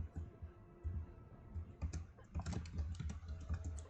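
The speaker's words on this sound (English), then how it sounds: "you get to hear me utterly mashing the keys" Computer keyboard keys are hammered rapidly and irregularly during a fast action game, a dense clatter of clicks and thumps heard close and fairly quiet, with no talk over it.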